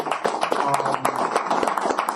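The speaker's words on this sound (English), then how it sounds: "please, a round of applause." Audience applause at a New York documentary Q&A event, a steady patter of many hands clapping close by for a couple of seconds, with no talk over it.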